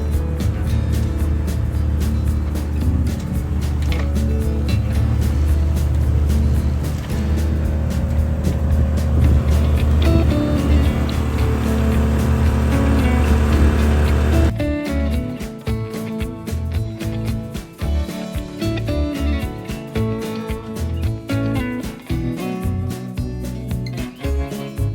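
A sailboat motor sailing under engine power on an overnight coastal passage off New Jersey, giving a loud, steady low engine drone with rushing water that continues throughout, shifting character partway through.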